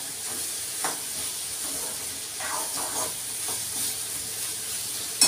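Moong dal frying in a pan for fenugreek (methi) bhaji gives a steady, soft sizzle and hiss with faint stirring scrapes, closing on a sudden louder clatter.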